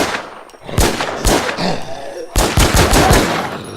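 Rapid bursts of video game gunfire in a multiplayer shooter match, loud and close, with repeated shots in quick volleys, a brief pause, then further sustained firing.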